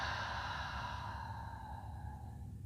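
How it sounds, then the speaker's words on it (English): A slow, steady exhale during yogic three-part breathing, the rib cage settling as air flows out; a soft, breathy whoosh that holds even and close for nearly three seconds, then gradually tapers, with no talking. "Exhale"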